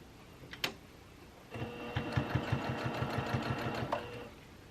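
Sewing machine top stitching a shacket seam, a steady rapid mechanical thumping run of about two and a half seconds after a single click, close and clear.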